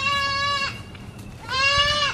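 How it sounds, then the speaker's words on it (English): Two loud, nasal goat bleats ring out close by, each held for most of a second, separated by a brief quiet pause. "These are goats."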